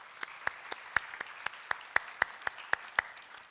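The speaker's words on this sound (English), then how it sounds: "so please give them a round of applause." Sparse, evenly spaced hand claps from a small audience thanking a conference panel at the K.E.Y. Platform 2016 event, a dozen or so crisp claps heard fairly clearly in a quiet hall.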